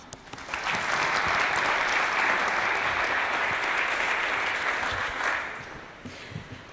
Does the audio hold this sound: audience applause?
yes